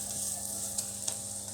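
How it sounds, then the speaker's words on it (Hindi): Onion and cabbage paratha fries in ghee on a pan with a soft, steady sizzle. A couple of faint clicks rise above it and no voices are heard. "फिर से घी लगाएंगे, फिर से पलटेंगे और थोड़ा ब्राउन होने देंगे हल्का सा।"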